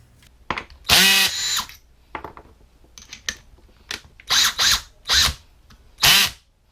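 A power drill fitted with a homemade bit works the edges of a leather cigarette case. It whines in about eight short, loud bursts, separated by quiet gaps and faint clicks.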